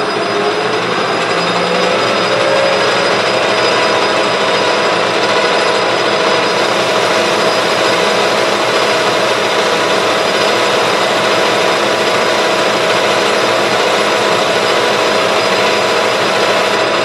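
A steel rotary broach part machined on a lathe during a finish cut, giving a loud continuous grinding whir with a high steady whine, unbroken from start to end.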